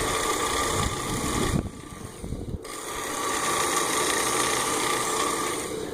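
A Worksharp power sharpener running at low speed grinds an axe edge with a steady mechanical whir and rasp. The sound drops out briefly partway through between passes, then resumes and holds evenly to the end.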